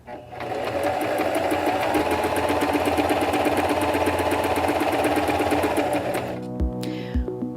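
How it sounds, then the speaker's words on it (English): Singer M2105 sewing machine stitching a straight seam, a loud, steady mechanical whirr with rapid needle knocking that runs for about six seconds, then stops with a couple of clunks. "place your fabric under the presser foot, lower the presser foot, then step on the foot control to start sewing."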